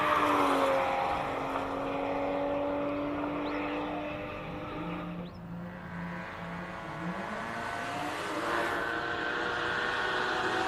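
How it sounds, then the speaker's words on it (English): Supra race car on the Simola hillclimb track, its engine droning steadily at close range with rising and falling pitch as it accelerates and shifts, a continuous loud roar throughout. "Paul Munro out on track in the Supra."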